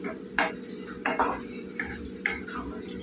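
Potato, cucumber and raw mango curry stirred in a pot, a spoon clinking and scraping against the metal in a few sharp, close knocks over a steady low background hum.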